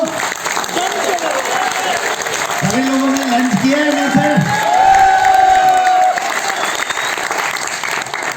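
Loud, continuous applause with some cheering fills the Nexmoney Vision 2021 business event hall, while a voice speaks over the clapping midway before the crowd noise carries on steadily.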